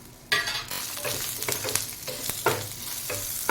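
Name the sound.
sautéing mango chutney ingredients in a pan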